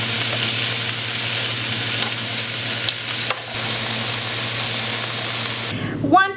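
Peppers, onions and beef frying in a lightly oiled pan, a loud, steady sizzle with a low hum underneath and a brief clatter of stirring at the end.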